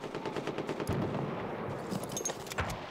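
Gunfire from a Vetterli infantry rifle in Battlefield 1, a few sharp shots over a dense backdrop of distant battlefield shooting and rumble.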